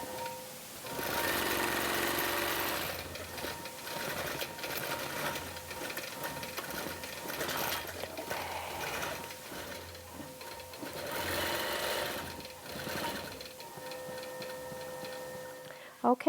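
A sewing machine stitches quilting designs on a Halloween quilt, running in a fast steady mechanical whir with rhythmic ticking, pausing and restarting between passes, fairly close.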